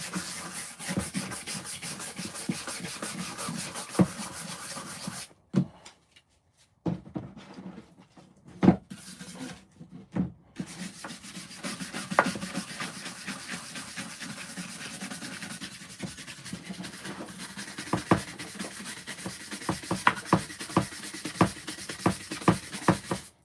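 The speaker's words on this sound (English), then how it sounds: "Try to lift off that rust at the same time. So I'm scrubbing." Old rusty metal horseshoes being scrubbed with a brush, producing a steady rough rasping and rubbing that runs close and continuous, broken by a couple of brief pauses.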